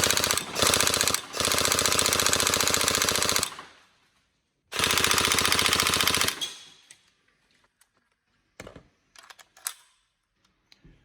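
Tokyo Marui AK Storm airsoft gun with a Warhead motor firing two long full-auto bursts, a fast loud buzzing rattle, followed by a few faint mechanical clicks.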